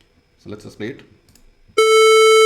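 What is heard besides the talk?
hard-clipped sine wave, Python guitar distortion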